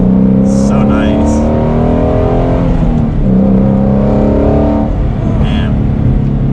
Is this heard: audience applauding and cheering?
no